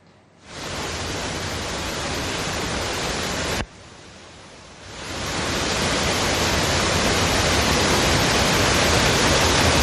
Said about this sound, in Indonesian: Video amatir warga ini memperlihatkan sebuah curug atau air terjun mengalir sangat deras bercampur lumpur